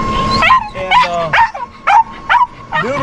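A dog barks from inside a house, heard from outside: about six sharp, high yips come in a quick, uneven series, fairly close and loud.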